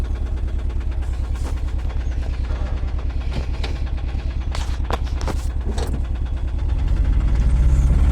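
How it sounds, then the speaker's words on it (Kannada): A tempo goods vehicle's diesel engine chugs in a steady, heavy pulsing rhythm at close range while being driven in reverse, the note rising and growing louder near the end. "ಫಸ್ಟ್ ಟೈಮು ನನ್ನ ಟೆಂಪೋ ಈ ಥರ ಓಡಿಸ್ತಾ ಇರೋದನ್ನ ವಿಡಿಯೋ ಹಾಕಿರೋದು. ರಿವರ್ಸ್ ಹಾಕಿ"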